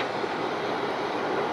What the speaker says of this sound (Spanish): I'm going to release my tractor parking brake